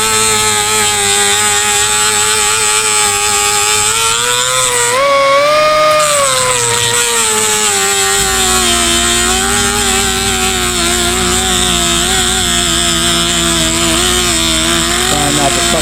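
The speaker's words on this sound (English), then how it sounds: "So let me get this drill going, and we're going to get to cutting here." A drill whines steadily as it cuts through a rear wheel bolt on a Toro Recycler 22-inch self-propelled lawnmower. The pitch wavers as the load changes, and the sound is loud and close with little else heard.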